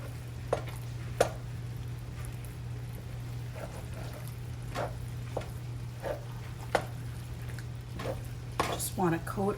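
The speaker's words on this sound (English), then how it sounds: "And we're just going to get this stirred in." Softened cream cheese, about 10 ounces, stirred into meat in a pan, giving repeated soft scraping and clacking strokes of a utensil over a steady low hum, fairly close, with a faint sizzle.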